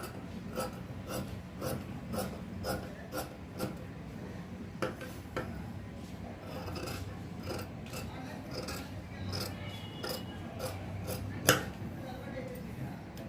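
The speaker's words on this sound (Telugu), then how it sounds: "ఇప్పుడు ఈ మార్కింగ్ ప్రకారం కటింగ్ చేసుకోవాలి" Scissors cut fabric along chalk markings for a three-layer frilled child's frock, making steady snips and soft rasping strokes close by while someone talks over them.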